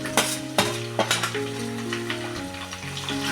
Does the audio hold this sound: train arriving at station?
no